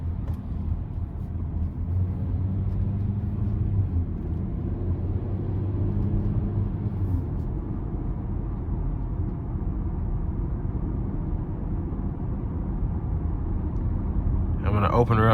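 Inside a 2023 Chevrolet Equinox RS in low gear, a steady low engine and road rumble continues throughout, with the driver talking over it.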